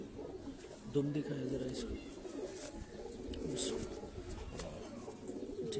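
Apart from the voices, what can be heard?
pigeons cooing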